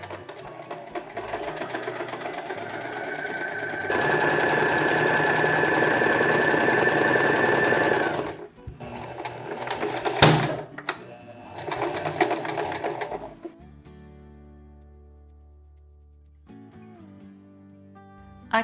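A sewing machine stitches a skirt seam with a backstitch, its close motor whirring steadily and rising to a faster, louder run, then stopping and starting in short bursts before winding down, with brief handling noises.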